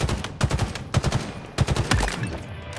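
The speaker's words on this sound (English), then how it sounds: "Taking fire!" Rapid bursts of automatic weapon fire in Halo Infinite, three close, loud volleys of quick shots separated by brief pauses, with no talking.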